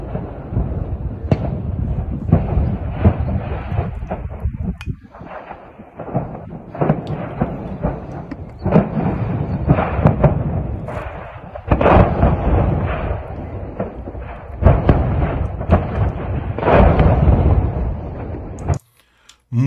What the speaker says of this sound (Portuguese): muita explosão secundária, né?